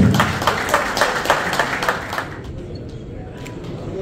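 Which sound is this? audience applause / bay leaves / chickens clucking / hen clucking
audience applause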